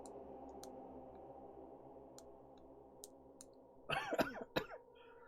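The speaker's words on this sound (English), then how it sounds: "I still cough a little bit" A person coughs near the end, a short loud cluster of two or three close coughs after a few seconds of quiet room hum and faint clicks, with no talk.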